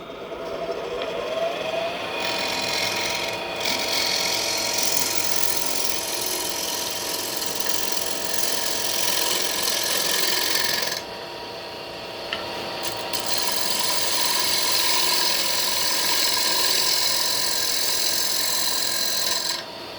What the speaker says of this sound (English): We're going to turn this at about 900 RPM, and you'll see me use 2 tools on the exterior.